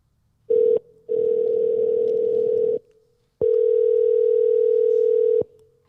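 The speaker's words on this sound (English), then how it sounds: "Is it ringing?" Telephone ringback tone on a call, a short beep followed by two long steady tones separated by silence, loud and clean with nothing else around them.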